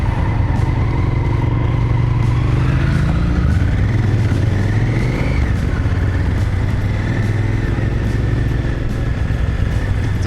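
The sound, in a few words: KTM motorcycle riding past on the motorway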